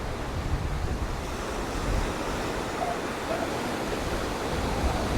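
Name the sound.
waves crashing on a windy beach, Camp de Mar, Mallorca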